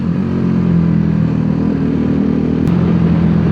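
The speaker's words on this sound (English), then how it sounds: "with the Accra exhaust, this bike is is a pleasure for the ears" A BMW G 310 GS motorcycle with an Akrapovic exhaust rumbles steadily and loudly during a ride in Bali, a constant low engine drone with a brief sharp click near the end.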